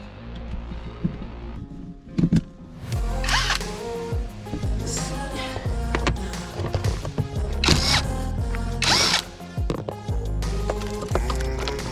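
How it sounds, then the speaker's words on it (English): Power drill backing screws out of the interior of a 1992 Honda Accord coupe, with a dense, continuous buzzing whir and clattering, rattly bursts close by throughout. "let me just go ahead and get these screws out"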